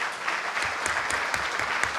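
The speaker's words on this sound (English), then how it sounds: "Let us have a round of applause for all of them" Attendees at a government procurement workshop give a brisk round of applause, dense, continuous clapping from a hall audience lasting a couple of seconds.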